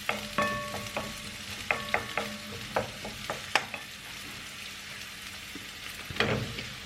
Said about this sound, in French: Là, nous avons la viande qui va cuire aussi.